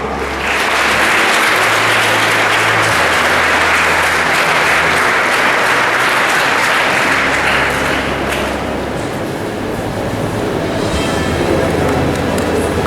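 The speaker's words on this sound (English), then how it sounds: "Round of applause." Sustained audience applause at a school toppers' felicitation ceremony, loud continuous clapping from a large crowd with a low hum beneath, easing slightly near the end.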